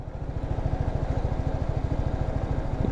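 A motorcycle engine pulls away in first gear with a steady, close, rhythmic thumping putter that holds level and even throughout, no voices over it.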